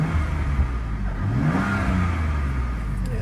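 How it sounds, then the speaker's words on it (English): A stock BMW M3 F80 revving while parked with the handbrake on, a steady engine roar that climbs in pitch and then settles, heard close and alone. "can I just rev it right now while it's e-brakes up and everything?"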